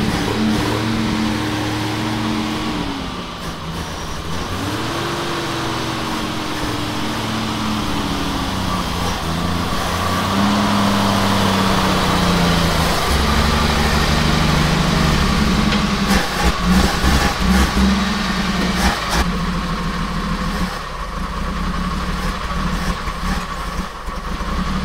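A Jeep's engine idles steadily as the vehicle is moved out, its low rumble continuous and fairly close, with the pitch shifting slightly as it rolls along and faint outdoor noise in the background.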